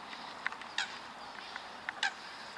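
Geese honk a few times at a distance, short scattered calls over a quiet outdoor background with no talking.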